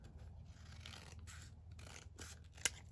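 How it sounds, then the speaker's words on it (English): Scissors snip through embroidery thread and paper for a junk journal, with a few soft rubbing cuts through the clip and one sharp close snip near the end, with no voices. "we can just cut that out, and then obviously I can trim it up"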